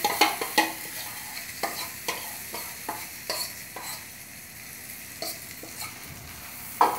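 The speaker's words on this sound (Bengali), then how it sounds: "তারপরে বিনস, গাজর আর বাঁধাকপি, পেঁয়াজ, কাঁচা লঙ্কা দিয়ে দিয়েছি। এবার কড়াইতে দিয়ে দিলাম।" Semolina batter soaked in sour curd, mixed with beans, carrot, cabbage, onion and green chilli, goes into a hot wok, giving a steady sizzle broken by repeated sharp spatula scrapes and clicks against the metal, close and fairly loud.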